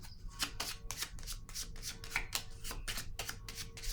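Cards handled and laid out on a table, a quick run of soft papery flicks and slaps in an uneven rhythm, close but quiet, with no one talking.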